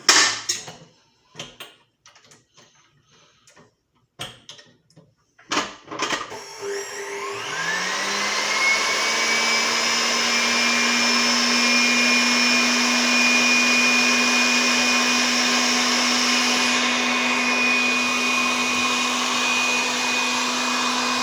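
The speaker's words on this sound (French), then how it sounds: "Je le mets directement dans le batteur mélangeur. Et je mets tout de suite à monter." Stand mixer whipping a soufflé glacé base: a few knocks and clatters first, then the motor starts and rises into a loud, steady whirring hum that continues to the end.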